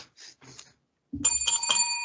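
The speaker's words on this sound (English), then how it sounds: "there's the bell, so we know what that means" A bell sounds to close an episode of the Three-Way Dance Wrestling Podcast: a bright, ringing tone with a lingering shimmer that follows a brief stretch of quiet after some earlier talk.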